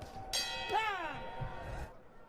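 A boxing round bell strikes at a boxing match, its tone sweeping and fading over a noisy crowd, with faint voices in the background.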